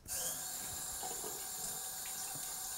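Tap water runs in a steady, close hiss as sediment-clogged faucet aerators are rinsed off under the stream, with faint splashing throughout.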